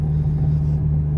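A Ford Mustang fitted with 3.73 gears cruises on a road at about 45 to 50 mph, giving a steady, close low engine drone and road rumble from inside the car, with no one talking.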